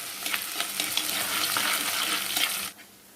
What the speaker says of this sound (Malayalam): കാന്താരിയും വെളുത്തുള്ളിയും ഇഞ്ചിയും വേപ്പിലയും കൂടെ കിടന്ന് നല്ലവണ്ണം മൂത്ത് വന്നിട്ടുണ്ട്